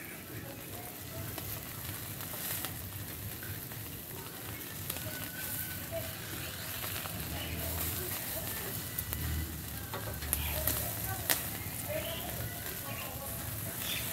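Food crackles and sizzles steadily on a grill at close range, with small pops scattered through it, while a person chats over it.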